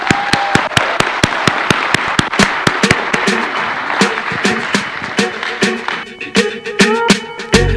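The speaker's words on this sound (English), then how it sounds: "Let's give our presenters one more round of applause" Loud, close applause from an audience for presenters at a college convocation, with sharp individual claps standing out above the crowd and faint voices mixed in as it fades.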